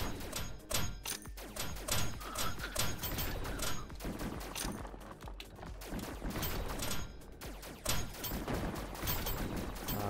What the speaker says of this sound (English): that explosion radius is smaller than it looks